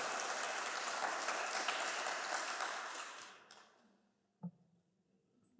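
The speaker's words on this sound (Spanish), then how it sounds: "Denle un aplauso a Jesús." A church congregation applauds during a sermon, a dense, rain-like patter of clapping that holds steady, then fades out over about a second, leaving near silence and one soft thump.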